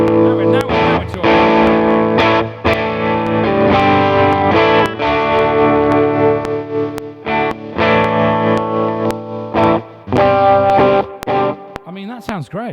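An electric guitar played through a Neural DSP amp plugin with heavy overdrive distortion, strummed chords and sustained notes ringing loud and close, with a short pitch-bending squeal at the end.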